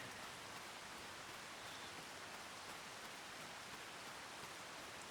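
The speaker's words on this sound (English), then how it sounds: "I know it's raining" Steady rain from Farming Simulator 25 falls as a soft, even hiss of fine patter with no talking over it.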